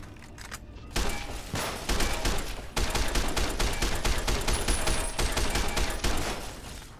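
Rapid automatic gunfire in Fallout: New Vegas as an enemy is shot, a dense, loud, continuous burst of shots that begins after a second and keeps going, close and without a pause.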